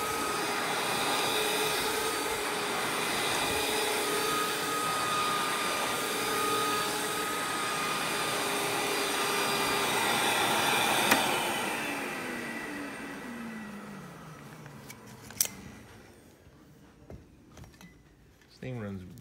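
A Rainbow E2 single-speed canister vacuum runs with a loud steady whine that winds down after being switched off, its pitch falling away to quiet with a few clicks at the end.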